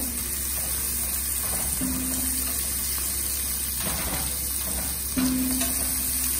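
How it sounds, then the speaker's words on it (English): Ingredients for Surti vaal pulao, a Gujarati dish of white sprouted beans, sauteing in a pan, giving a steady soft sizzle with a few faint stirring scrapes throughout. "Then saute this."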